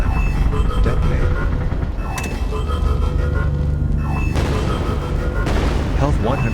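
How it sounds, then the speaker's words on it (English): A self-destruct explosion in the video game Artificial Extinction, a loud sustained rumble of booming blasts and crackling debris layered with continuous game noise, with a sharp burst partway through. "Beginning self-destruct sequence in 5 seconds."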